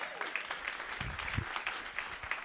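Quiet applause from an audience at a storytelling evening honoring farmers, a soft, distant patter of clapping that stays fairly even throughout.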